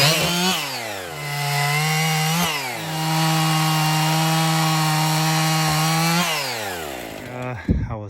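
A chainsaw cuts up into a log from the underside, close by and loud, its engine revving up and down between a steady, labouring drone before easing off near the end.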